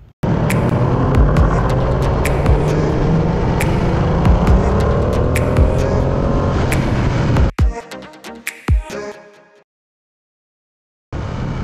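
Ducati Panigale V2 motorcycle lapping Buddh International Circuit on a track day, its engine roaring loud and close with rising and falling revs, then cutting out abruptly into a few sharp knocks and a stretch of silence before resuming.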